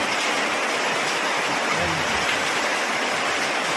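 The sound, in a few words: very heavy rain and strong wind, like a storm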